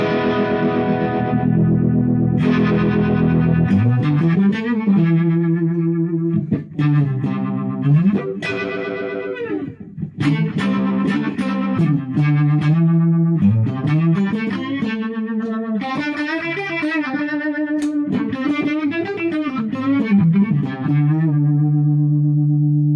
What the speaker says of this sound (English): You go from really subtle kind of phasery effects to the real hard vibe sound.